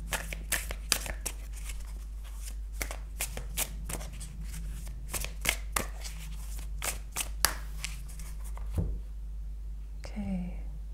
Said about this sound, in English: So we're going to shuffle a bit more.